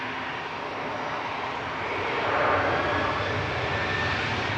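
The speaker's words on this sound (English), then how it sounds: "Royal Emirates departing." An Emirates airliner departing Manchester Airport, a steady jet engine roar rising and swelling toward the middle, heard from a distance and alone without talk.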